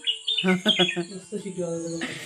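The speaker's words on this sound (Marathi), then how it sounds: "पक्ष्यांचा आवाज बघा ना" Birds chirp and tweet in a garden on a bright morning after rain, with a busy run of short bright calls and trills, close and clear, partly overlapping one another.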